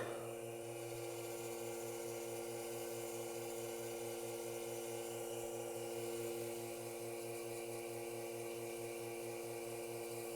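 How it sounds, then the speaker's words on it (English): Sandpaper working a turned end grain wooden bowl on a running lathe, a steady continuous rubbing hiss over the motor's even hum and rhythmic low pulsing, close and unbroken with no talk. "No damage, but let me sand that."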